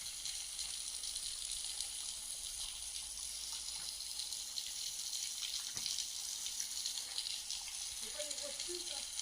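Soft, steady hiss of thin water trickling and dripping at a waterfall, a faint continuous splatter with a few brief louder spots near the end.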